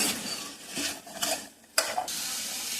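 Chopped vegetables are stirred in a pot of butter and garlic for a chicken soup, giving a soft scraping swish with a light sizzle and a few brief knocks of the spoon.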